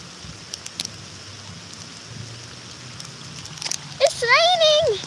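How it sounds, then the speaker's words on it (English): Heavy summer rain pours down in a steady broadband hiss, with voices talking over it near the end. "It's raining so badly."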